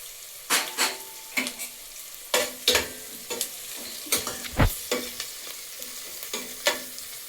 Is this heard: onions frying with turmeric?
yes